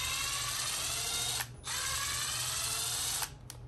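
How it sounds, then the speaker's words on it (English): Power driver whirring close up as screws come out of a Traxxas X-Maxx 8S RC car, two long steady bursts separated by a brief pause, then short stops and starts at the end. "Remove the screws."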